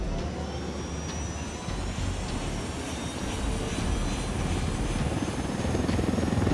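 A helicopter in Ghost Recon Wildlands roars with a dense, steady rotor thrum and engine whine, loud and close throughout and swelling slightly toward the end.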